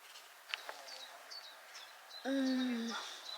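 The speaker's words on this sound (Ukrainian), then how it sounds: "насолодитись природою, співом птахів" Birds sing and chirp outdoors in a home yard, with scattered short high calls early on, followed by a louder, longer call that sounds fairly close.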